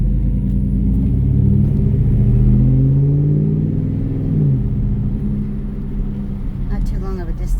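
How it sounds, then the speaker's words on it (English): A 2007 Chevrolet Silverado short-bed pickup truck drives along, its engine giving a steady low rumble with a rising, falling tone as it accelerates, heard from inside the cab, with a voice briefly at the end. "I'm going to do a drive with it so you could hear the truck"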